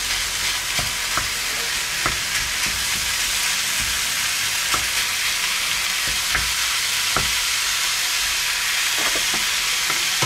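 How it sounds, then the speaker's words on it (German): Minced butcher's meat sizzles and fries steadily in a pan, a dense, even hiss with scattered small pops and crackles, close up and without talk. "Und das tun wir jetzt zusammen schön brutzeln"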